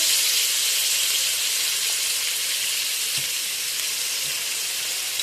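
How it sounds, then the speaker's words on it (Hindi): Chicken frying in a pan for chicken macaroni gives a loud, steady, close sizzle and hiss throughout, with no talking. "दो 4 मिनट हमें इसको फ्राई करते हुए हो चुके हैं।"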